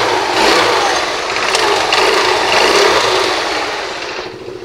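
A scooter engine runs steadily just after being started, a loud, continuous mid-pitched drone with slight rises in revs that eases off toward the end.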